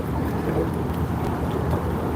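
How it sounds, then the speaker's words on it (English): Wind whips around on open water by a fishing boat, a dense, steady blustery rush with low rumbling buffets against the microphone, loud and unbroken throughout. "you can hear that wind whipping around pretty well"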